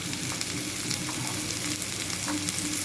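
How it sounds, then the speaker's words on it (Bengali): Bitter gourd and eggplant with onion and turmeric fry in a pan, giving a dense, even sizzle that crackles steadily throughout with faint stirring underneath. "দিয়ে খুব ভালো করে এটাকে একটু ভেজে নিলেই হবে"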